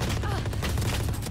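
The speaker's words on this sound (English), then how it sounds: "Swarm grenade out." A crackling flurry of small swarm grenade explosions in Valorant, dense and continuous, popping rapidly at close range.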